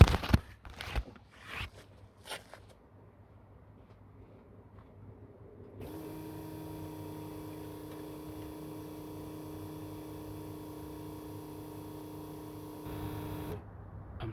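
A newly fitted fuel pump on a VW Polo Mk2F runs with a steady, even electric whine and hum, heard from outside the car. A few sharp knocks come first, then several seconds of quiet before the pump starts and holds constant until it cuts off.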